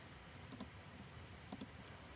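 Two faint pairs of quick mouse clicks, a second apart, on a download button in a quiet room.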